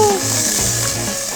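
Food hits hot oil and sautés with a loud, steady sizzle close by, a brief stir sounding over the constant hiss.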